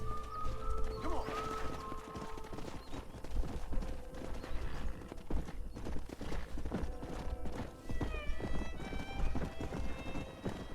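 Horse hooves galloping in the video game Red Dead Redemption, a rapid steady clip-clop of a stallion running, with occasional whinnies and game sounds layered over it.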